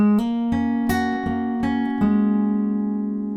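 Fingerpicked acoustic guitar plays part of a song: a handful of plucked notes ring over a sustained low tone, with a hammer-on near the end, clean and close, no talking.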